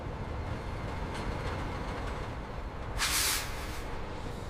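A train crosses a newly built bridge over a deep canyon, a steady rumbling roll of rail cars with a brief hissing burst of air brakes midway, no voices.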